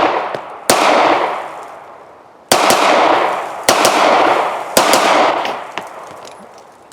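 Four sharp, loud 9mm shots from a Beretta M1951 pistol at an outdoor range, spaced irregularly, each followed by a ringing decay, with a couple of faint distant pops between.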